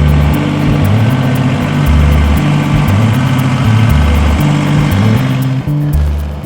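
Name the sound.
tractor engine running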